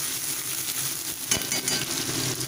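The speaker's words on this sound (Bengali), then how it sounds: "এবার আমি এতে দিয়ে দেব পেঁয়াজ কুচিগুলো। এবার ভালোভাবে একটু ফ্রাই করে নেব।" Chopped onions sizzling in a hot pan with steady, crackling frying noise and one brief scrape or clatter partway through.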